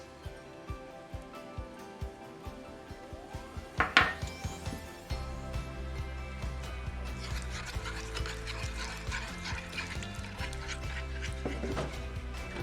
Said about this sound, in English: I'm going to dissolve some of my oatmeal in some milk